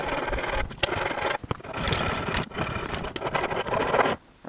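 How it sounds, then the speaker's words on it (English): A bandsaw cuts a wooden armrest for a Morris chair, a close, loud continuous whir and rasp of the blade that varies through the cut and stops abruptly at the end, with no talking. "So let me cut this on the bandsaw."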